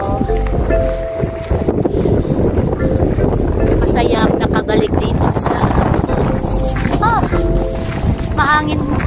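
Steady wind buffeting a microphone at a school with heavy low rumble throughout, faint voices and a few tonal chirps underneath.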